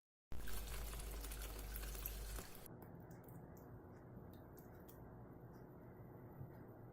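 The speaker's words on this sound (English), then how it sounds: "Wash the mixie jar with water and add it into the pan." Rinse water from a mixer grinder jar is poured into a cooking pan, a short splashing gush followed by soft liquid sounds and a quiet sizzle.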